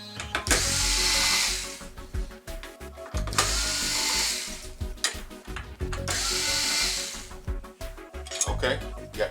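Power drill backing silver screws out of a Sony TV stand, three long whirring bursts with short pauses between, close and loud, with clinks of metal and faint handling noise.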